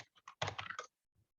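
Short bursts of typing on a computer keyboard, a few quick key clicks followed by a denser flurry of keystrokes, then a faint final tap, close and alone without talk.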